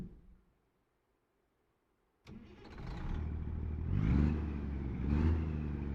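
A truck engine in American Truck Simulator, a 625 horsepower King of the Hill build, cranks and catches with a sharp start, then settles into a steady loud idle with two swelling revs.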